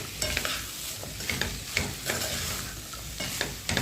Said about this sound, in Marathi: भाजी छान भाजी असं मसाल्यात भाजलं ना एक दोन मिनिट